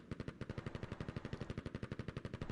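Rapid automatic gunfire in a video game match, a steady burst of loud, evenly spaced shots rattling continuously for the whole stretch with no talk.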